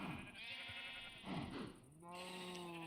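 Sheep bleat in a video game, several wavering, nasal cries following one another at moderate volume, fairly close and clear with little else around them.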